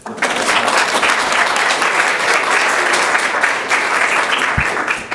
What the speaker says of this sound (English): Now we can clap for them.